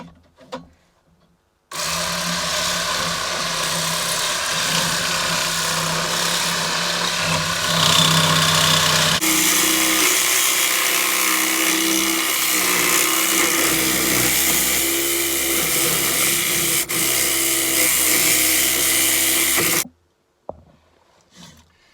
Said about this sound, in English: we will use the cordless Evolution saw that they kindly sent me for review